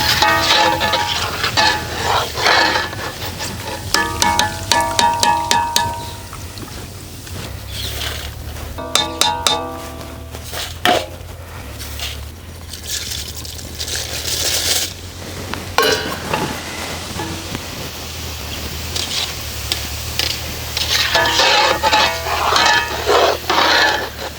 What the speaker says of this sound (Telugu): ఇలాగే అటుకులు మొత్తం వేడి సెగ మీద మెల్లగా వేయించుకుని నూనె రాకుండా తీసి పక్కన ప్లేట్లో వేసుకోవాలి.